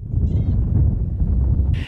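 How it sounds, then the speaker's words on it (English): Goats rush toward a water tanker during a drought in Garissa, Kenya, bleating amid a dense, continuous low shuffle of many animals, with one clear nasal bleat early on and another sharper cry near the end. "goats are making a rush towards a tanker"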